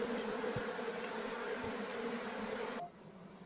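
A dense, steady buzzing of a honey bee swarm fills most of the clip, then drops away abruptly near the end, leaving quieter scattered buzz.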